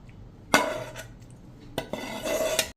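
Roasted spice mix is scraped from a pan into a bowl with a metal spoon, giving a few distinct clinks and scrapes separated by short pauses, close and fairly quiet.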